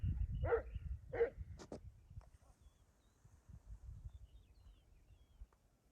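A dog barks twice in quick succession at a moderate distance at a snake, followed by quiet rustling and faint background noise, at a village campsite.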